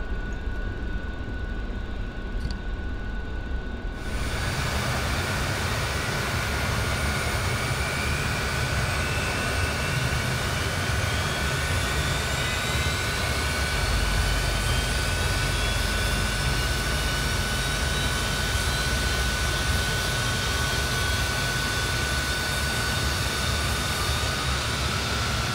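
Avro Vulcan jet engines start up in a flight simulator game, a quiet opening giving way to a loud, continuous roar with a rising whine that holds steady for the rest, with no voices heard.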